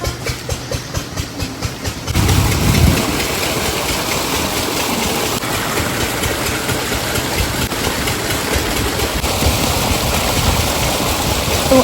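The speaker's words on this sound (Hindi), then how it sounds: "तो अब इंजन बंद करने का समय आ गया है" Irrigation water pump engine running steadily, loud and close, its thumping chugs giving way to a continuous dense mechanical roar with no talk.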